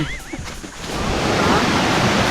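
Steady roaring rush of falling water at Pha Taek Waterfall in Thailand, a broad continuous wash that swells louder, with a few faint high chirps early on.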